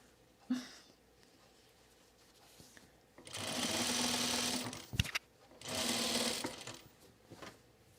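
Sewing machine stitching a button-down shirt, two sustained runs of steady buzzing about three seconds and two seconds long, separated by a short pause with soft handling sounds, close and fairly loud.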